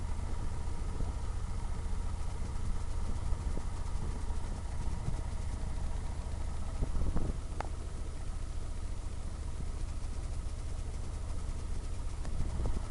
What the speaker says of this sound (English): The engine running